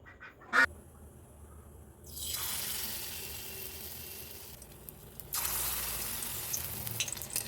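Besan-coated mutton fat pieces dropped into hot oil in a wok: a steady hiss of frying that swells into a broad sizzle, growing louder partway through, after a brief clatter at the start.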